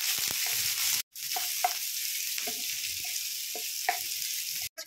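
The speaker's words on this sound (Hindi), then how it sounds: "तेल गर्म हो गया है तो इसमें हम हरी मिर्च डाल देंगे, साथ में प्याज और इसे हम थोड़ा भून लेंगे।" Green chilies and onion sauté in hot oil, a steady close sizzle with occasional stirring scrapes and a brief break partway through, no voices.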